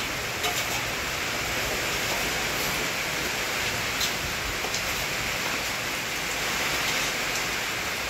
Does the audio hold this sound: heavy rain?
yes